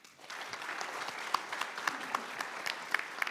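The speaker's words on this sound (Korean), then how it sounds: "따뜻한 박수로 모시겠습니다" A forum audience on industrial transformation in eastern Jeonnam gives warm applause to welcome a session speaker; the clapping is soft and fairly distant, with a few sharper individual claps standing out.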